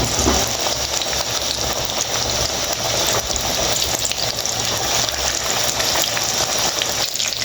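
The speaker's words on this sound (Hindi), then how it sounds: "हमारा जो तेल है वो गर्म हो गया, तो इसको हल्की आंच पे हमने फ्राई करना है इन पकौड़ों को।" Chicken pakoras fry in hot oil over low heat, producing a loud, dense, unbroken bubbling hiss that holds steady throughout.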